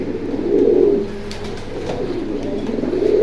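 Pigeons coo loudly and close by at a pigeon market in Keraniganj, Dhaka, with two swelling throaty coos, one near the start and one near the end, and softer cooing in between; no talking.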